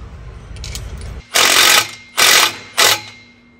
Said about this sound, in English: And then we can go ahead and tighten up the 15mm on the new exhaust clamp.